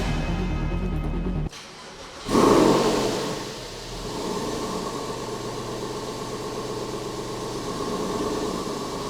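A Porsche 996 flat-six engine cranks briefly, catches with a loud burst, then settles into a steady, rumbling idle that continues evenly throughout.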